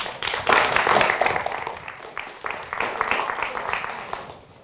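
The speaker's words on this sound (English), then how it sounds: "please, a warm applause for Mounir Samuel" A festival audience at an evening talk gives warm applause to welcome the speaker, a dense patter of claps that swells, dips and then fades out, with voices mixed in at the start.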